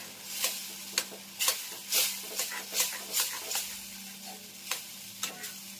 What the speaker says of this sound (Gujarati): થોડીક વાર ઉકળવા દેવાની એટલે દાળ તૈયાર.